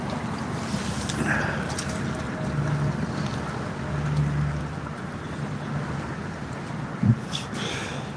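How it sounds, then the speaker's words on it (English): Steady wind blows outdoors on the water during kayak carp fishing, a continuous low rumbling buffet with gusty swells and a brief louder knock near the end, no talk. "Getting quite breezy."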